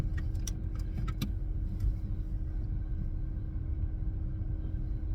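Heard from inside a car on the move, a low steady road rumble and engine hum carries on throughout, with a few light jingling clicks near the start.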